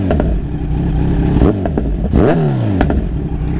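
Kawasaki Z900 motorcycle engine revving hard from close by, with repeated sweeping rises and falls in pitch and crackling pops over a steady loud roar.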